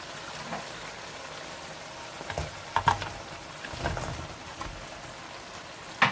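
Fish frying in spiced masala in a pan with oil gives a soft, low crackling sizzle broken by a few sharper pops and clatters, close by and without talk.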